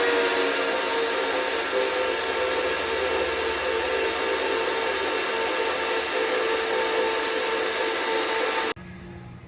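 Steel tube being notched with a tube notcher for a DIY Toyota Hilux tube bumper, a loud, steady whirring and grinding of the cutting tool that runs unbroken for about nine seconds before stopping abruptly.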